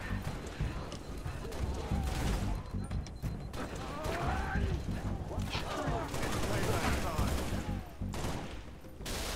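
Gunfire and battle noise in the video game Halo Reach, dense overlapping shots and explosions rumbling throughout at steady loudness while players talk over it.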